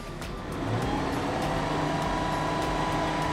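A Tata Tiago i-CNG hatchback engine revved from idle after a cold start, a low steady hum that rises and holds at a smooth, even drone, fairly quiet and close, with no talk.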